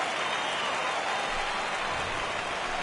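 Steady broadband rain hiss falls throughout a baseball game in the video game MLB The Show 16, continuous and even with no voices, ending in a brief sharp tap.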